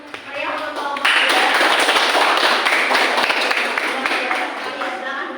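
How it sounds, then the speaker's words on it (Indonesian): Classroom applause for a student group after a presentation in a chemistry teacher-training session at a university, a steady dense patter of many hands that swells after the first second and carries on at an even level to the end. "beri tepuk tangan yang meriah untuk kelompok 2"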